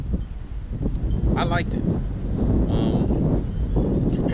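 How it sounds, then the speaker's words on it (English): Strong wind buffets an outdoor microphone on a spring day in Guadeloupe, a continuous low rumbling roar throughout while a person speaks briefly over it. "I know it's a little windy, but hopefully you can hear me"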